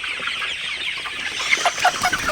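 Sonali super hybrid chickens cluck in a flock in the evening, a steady overlapping chorus of soft clucks with a few sharper calls near the end, with no talking.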